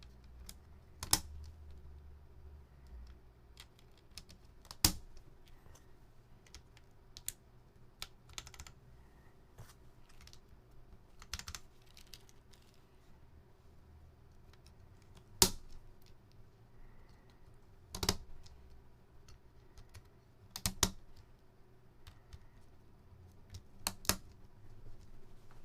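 Sparse, isolated key presses on a mechanical keyboard with its keycaps still fitted, crisp clicks spaced a few seconds apart over a quiet, low room hum.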